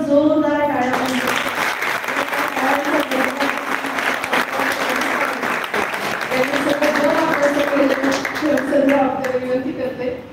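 Strong applause for a college principal at a Women's Day function fills the whole stretch, steady and dense, while someone speaks over it at the start and again near the end.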